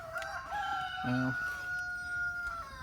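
A rooster crows once on a homestead farm, a drawn-out cock-a-doodle-doo at a moderate distance over a steady outdoor background hum.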